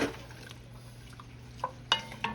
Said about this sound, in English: Stir this up. Get this stirred up in here.